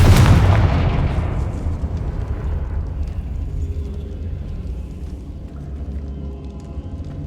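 Confringo fire-blast spell cast in the Hogwarts Legacy video game on PC, a loud booming explosive burst at the start that rolls off into a long rumbling decay with crackling debris, no voices.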